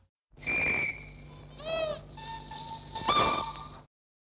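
Shrill, wavering train whistle tones sound in several short bursts, processed and layered in the 1948 musique concrète piece Étude aux chemins de fer, with a low rumble underneath and no voices.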